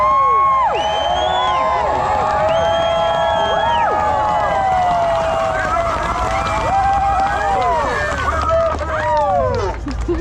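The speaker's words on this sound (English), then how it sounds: "So let's have a round of applause for the organizers of this event, please." A rally crowd in Calgary cheers and whoops loudly for the event organizers, with shouting and babble from many voices that holds strong throughout and fades slightly at the end.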